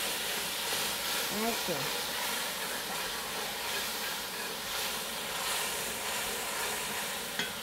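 Steady, loud sizzling and hissing of curry paste burning in a hot pot for Trinidad curry stew chicken, continuous throughout with a voice speaking briefly over it.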